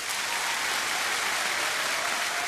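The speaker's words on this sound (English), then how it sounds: "Can we have a huge round of applause?" A theatre audience bursts into sustained, dense applause after a choir performance, steady and enveloping throughout with no voices.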